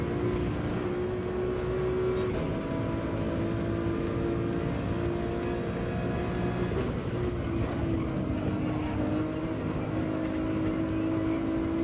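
Gr. 3 race cars at Brands Hatch in a racing video game: a loud, continuous engine drone with a steady tonal whine that shifts slightly in pitch as revs change, with no talking.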